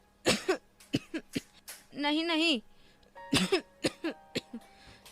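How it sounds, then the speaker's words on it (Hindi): A person with a constant cold coughs in a few sharp bursts between lines of speech, close and clear in a quiet indoor setting. "मुझे हर वक्त खांसी जुकाम रहता है ना।"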